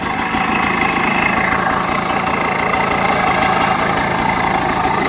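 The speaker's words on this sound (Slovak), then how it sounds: "Takže naštartujeme motor." An Agzat PA100 engine runs steadily at idle after starting, a continuous loud chugging rumble throughout with no talking, as the idle mixture is being adjusted.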